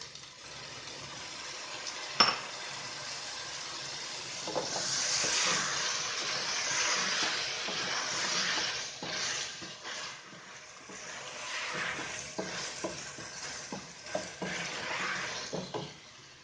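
Carrots cooking in a pan for curry, a soft hiss and sizzle that swells and fades, with occasional stirring scrapes and a sharp utensil tap near the start.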